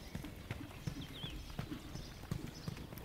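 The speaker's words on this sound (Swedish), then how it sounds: "Lite olika de här hästarna." Horses being ridden through tempo changes clip-clop with soft, rhythmic hoofbeats, fairly faint against a quiet outdoor background.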